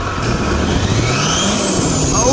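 A 6.6L Duramax diesel engine fitted with a cold air intake, revving up loudly up close, its pitch climbing with an airy intake whoosh and a deep rumble underneath.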